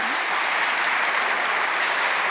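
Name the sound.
applause for two young pianists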